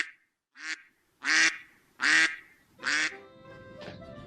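Loud, nasal duck quacks at a pirate-themed duck race event, five calls in a halting series, each brief and close, with a faint trailing call at the end.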